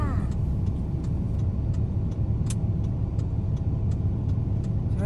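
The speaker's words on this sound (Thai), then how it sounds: "ขับรถชมพื้นที่โดยรอบกันก่อนค่ะ" A car drives around the Jomtien beach area, with a steady, close road rumble and a light, regular ticking over it.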